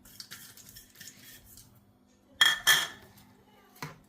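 Fruit custard with pomegranate, banana and dry fruits being stirred with a spoon in a bowl, giving two loud close clinks in quick succession and a softer tap near the end, over quiet background.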